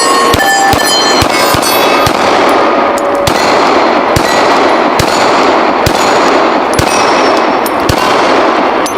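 Glock pistol shots striking a steel gong target outdoors: a series of loud, sharp reports spaced about a second apart, each followed by a ringing metallic clang.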